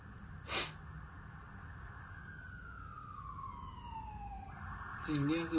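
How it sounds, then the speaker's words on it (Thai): An ambulance siren wails in the distance, its tone sliding slowly downward, with brief noises nearby and a low background rumble. "จะได้เสียงรถพยาบาลแบบเยอะมากๆเลยครับ"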